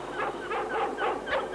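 A dog whimpers and yips in a string of about five whiny, high-pitched cries at an even rhythm, heard close and fairly loud.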